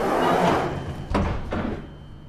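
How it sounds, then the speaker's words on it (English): Victoria Line Underground train doors slide shut after a rumble of platform noise, with two distinct thuds close together as the doors meet, then the sound fades out. "Please stand clear of the closing doors."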